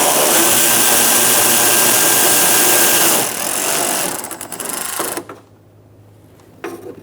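An 8mm socket on an extension spins nuts off the park assist camera of a 2013-2022 Buick Encore, a loud, steady power-driven whir lasting several seconds that tapers and cuts out, then a brief burst near the end.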